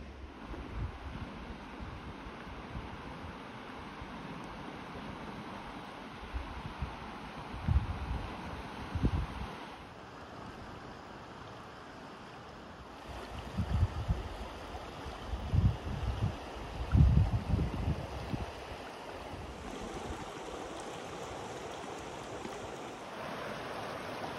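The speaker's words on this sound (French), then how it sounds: "Je vais aller voir la rivière, elle semble très belle, je l'entends couler à côté." Steady rushing of flowing river water fills the scene, with low rumbling gusts swelling and fading now and then.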